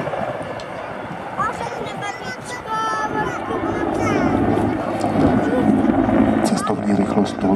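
A Czech Mi-24 attack helicopter passes at the CIAF 2017 air show, its rotor and turbine roar building steadily under loud crowd chatter and commentary, growing nearer toward the end.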